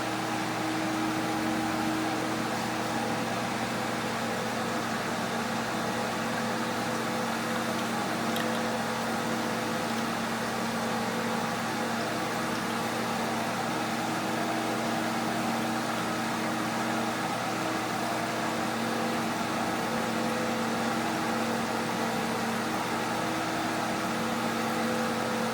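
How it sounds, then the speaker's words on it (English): A pump for a baby pool chlorinator runs steadily up close, a constant humming whir with airy hiss that stays level for the whole stretch, with no talk. "Give the pump a second, it's full of air from having this open."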